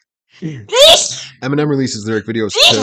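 A person sneezes sharply once, close by, in the middle of casual conversation, with talking just before and right after.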